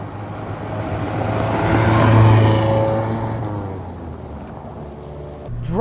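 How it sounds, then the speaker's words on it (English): A 1995 Honda Civic DX engine hums while driving, rising in pitch and loudness through the middle of the clip before easing off, heard from close by with steady road noise and no talk. "Driving this Honda Civic is a blast"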